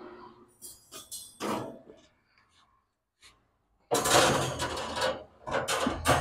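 Heavy-duty metal grill grates being set back into a Z Grills pellet smoker, giving bursts of clanking and scraping metal with a quiet gap between them.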